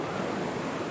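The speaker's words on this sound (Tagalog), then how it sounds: "Ayoko ng laki ng alon." Big ocean waves surge in a continuous loud wash of surf off Tordil, Casiguran, Aurora, heard close up from a small fishing boat.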